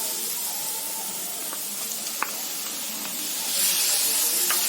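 Chopped tomatoes sizzle in a hot pan for egg bhurji, giving a steady soft hiss with a few faint clicks that swells louder near the end.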